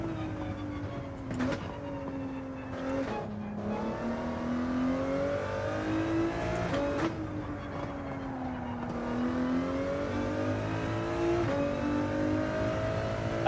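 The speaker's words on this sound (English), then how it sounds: "I was trying to be cautious because I could hear a car" A racing car engine in Gran Turismo 7 on the Grand Valley circuit revs up and down through repeated gear changes, rising whines broken by brief shift cuts, close and steady with no voices.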